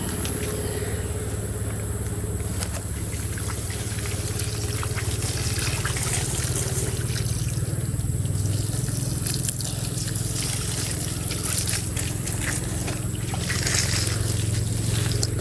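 Steady trickling and splashing water runs continuously, like a hose or can pouring onto plants, with a low engine-like hum underneath.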